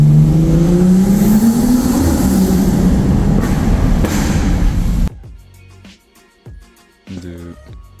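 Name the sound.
sports car engine revving through a tunnel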